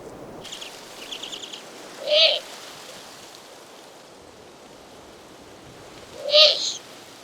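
A female Eurasian eagle-owl at the nest gives two loud, separate calls a few seconds apart. Faint chirps and a steady rustling hiss of night ambience sit beneath them.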